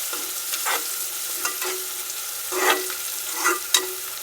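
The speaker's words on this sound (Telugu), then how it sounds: "కొంచెం కరివేపాకు, కొంచెం పసుపు వేసి వేయించుకోవాలి మంచిగా" Onions with curry leaves and turmeric frying in a pan, a steady close sizzle broken by several louder bursts of stirring scrapes, with no voices.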